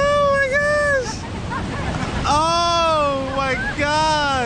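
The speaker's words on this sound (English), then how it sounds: "we are on the bridge underneath the waterfall" Waterfall roar heard from a bridge directly beneath the falls near Kuranda Village, a steady loud wash of rushing water under excited, overlapping voices.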